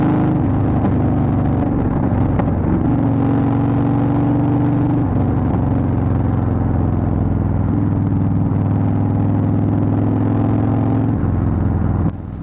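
A 2015 Harley-Davidson Wide Glide's 103 V-twin runs steadily up close, a loud, low throbbing drone with slight shifts in pitch, continuous for the whole stretch before cutting off abruptly at the end.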